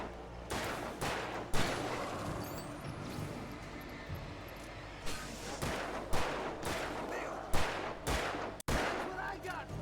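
Rapid gunfire in a video game comes in repeated loud bursts of sharp cracks, some close and some further off, with short gaps between volleys.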